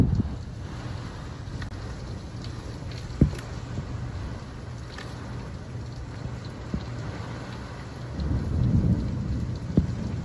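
Steady rain begins falling and patters continuously before a storm, with a sharp thunder crack early on and the downpour swelling louder toward the end.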